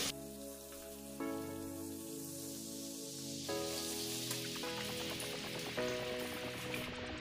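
Katla fish pieces come out of hot frying oil with a steady loud sizzle and crackle that runs throughout, changing in texture as pieces are lifted, with no talking.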